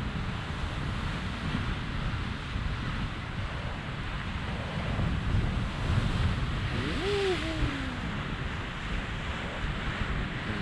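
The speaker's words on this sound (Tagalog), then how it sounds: "Lakas ng alon." Strong ocean waves surge and wash along the shore in a steady, loud broadband roar, blended with gusting wind buffeting the microphone; a brief whistling tone rises partway through.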